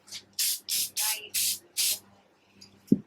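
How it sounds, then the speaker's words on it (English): Five short bursts of varnish spray can hissing in steady succession, close by, followed by a faint clink at the end. "Give it a light spray of varnish, any varnish you choose."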